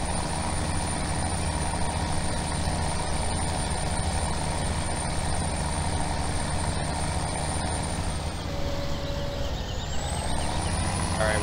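Steady, loud drone of a New Holland H8060 tractor engine while mowing in Farming Simulator 17, a constant rumble with no break, and a short tonal whine late on.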